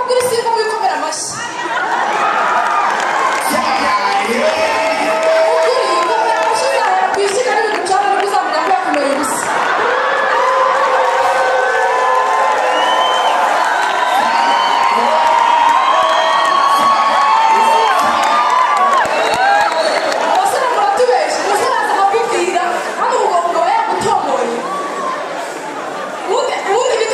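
A concert audience claps and cheers loudly without a break, with excited shouts, whoops and chatter layered throughout the long, dense roar of the crowd.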